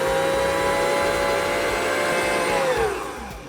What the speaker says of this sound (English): Get that a whisking, and you just kind of let it go until it becomes pale and beautiful